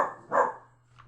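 Dogs at home react to the mail arriving with a couple of short, muffled barks, faint and somewhat distant, with a low steady hum underneath and no talk.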